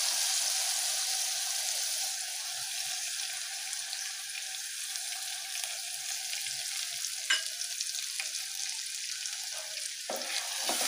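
Soaked moong dal fries with fenugreek leaves over a low gas flame, a steady fine sizzle throughout with a couple of brief stirring knocks, close and unaccompanied by talk.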